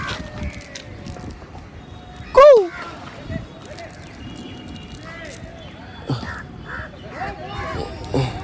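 Crows at a lakeside in the morning, coming to food scattered for them: one loud, close caw stands out, followed by fainter scattered bird calls, with people talking over the scene.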